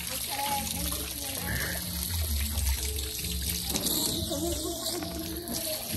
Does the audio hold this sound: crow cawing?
no